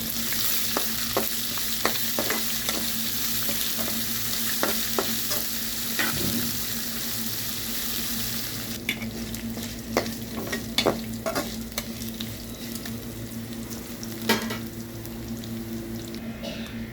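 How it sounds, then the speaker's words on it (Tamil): Garlic and green chillies sauté in a pan for lemon rice, an even close sizzle throughout with intermittent ladle scrapes and clicks, busier in the second half; no one speaks. "பூண்டு சேர்த்துருக்காங்க அது கூடவே பச்சை மிளகாவும் சேர்த்துருக்காங்க நல்லா வதங்கட்டும்"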